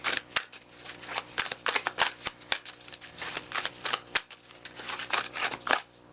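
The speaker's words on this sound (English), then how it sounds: "I'm gonna pull 2 more cards." Tarot cards being shuffled and pulled from a deck, a run of crisp papery flicks and riffles in quick irregular bursts, close and fairly quiet, with no talking.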